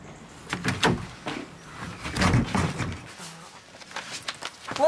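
A stuck door being forced open, with several rattling thuds and scraping knocks spread unevenly, close by and fairly loud, mixed with people's voices.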